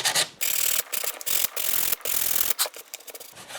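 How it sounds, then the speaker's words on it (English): Broken plastic repair sanded smooth with 150 grit sandpaper: close, loud rasping strokes in quick back-and-forth bursts separated by brief pauses, alone without talk. "I'm just going to take some 150 grit sandpaper and just stuff it down smooth"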